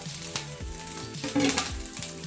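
Street-style egg fried rice with garlic, spring onion and coriander sizzles loudly in a hot pan while it is stirred nonstop, with continuous frying hiss, a few scraping stirs and music underneath.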